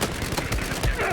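Rapid bursts of gunfire in Battlefield 4, several close, punchy shots over about a second, with faint voice chat underneath.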